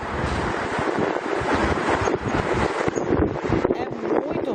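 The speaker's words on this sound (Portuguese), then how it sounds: "Esse é o barulho do vento que está chegando em Miami, onde o Sérgio está." Strong hurricane wind from Hurricane Ian reaching Miami, a loud, continuous broadband roar with gusting surges and buffeting against the microphone throughout.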